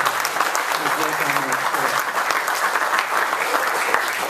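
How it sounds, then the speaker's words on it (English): An audience applauds a man named Chuck Smith at a WHA meeting, a steady, dense wash of clapping from many hands that fills the room, with a faint voice briefly audible beneath it. "A little round of applause for Chuck Smith."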